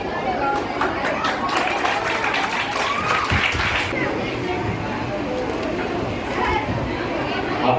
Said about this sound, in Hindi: आप तालियां बजाते रहें।